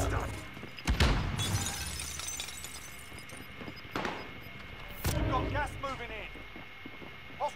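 Gunfire in Call of Duty Rebirth, a few sharp shots with shattering, cracking impacts scattered across the span amid game noise, with brief voice callouts near the end.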